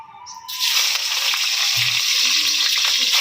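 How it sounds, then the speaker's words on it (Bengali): Cauliflower hitting hot oil in a pan after fish has been fried, breaking into a loud, steady sizzle after a short quiet moment, close by and continuing unbroken without any voice. "মাছগুলো সব ভাজা হয়ে গেছে, এরপর ফুলকপিগুলো ভেজে নেব।"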